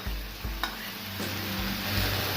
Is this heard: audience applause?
no